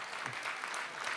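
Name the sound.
audience applause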